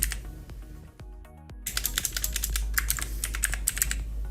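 Rapid keystrokes clatter on a computer keyboard while a drive name is entered during Windows 10 disk setup. Close and fairly loud, the typing comes in quick irregular bursts after a brief quieter pause with a few clicks.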